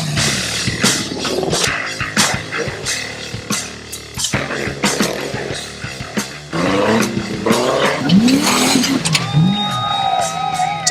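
Off-road trucks racing at an outdoor Tuff Truck Challenge event, engines roaring and revving loudly in surging bursts over a busy crowd and tannoy background, with rising and falling motor pitches throughout.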